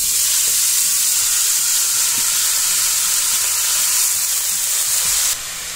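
Loud, close, continuous sizzling of minced meat frying in hot oil in a saucepan, a dense hiss that drops off abruptly at the end.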